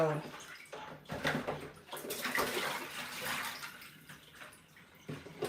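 Tilapia fish is rinsed in water in a bowl or sink, with uneven sloshing and splashing bursts that rise and fall over several seconds, close by and moderately quiet.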